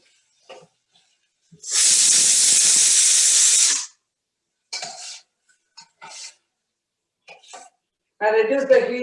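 A pressure cooker lets out a loud, steady hiss of steam for about two seconds, then falls quiet, followed by scattered kitchen clatter and brief bits of speech.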